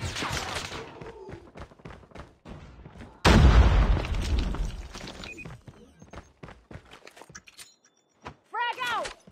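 A grenade goes off in a Call of Duty search-and-destroy match, a sudden heavy boom with a long rumbling tail, set among scattered gunshots and game clatter, with voice callouts around it.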